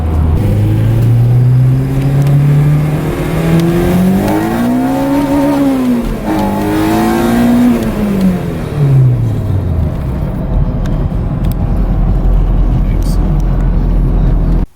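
A Honda car on a short test drive, with the engine heard loud from inside as it accelerates and eases off through rising and falling revs before settling to a lower rumble with road noise.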